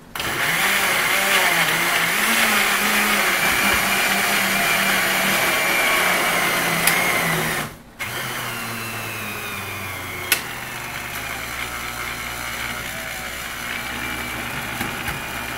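A blender whirs steadily while mixing roasted garlic mashed potatoes, a loud motor drone that cuts out briefly and then resumes at a lower, rougher pitch, with a sharp click partway through.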